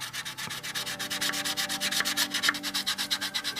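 Putty is sanded on a 1/48 Zoukeimura F-4E Phantom II model kit with quick, close, rhythmic back-and-forth rasping strokes that continue steadily throughout.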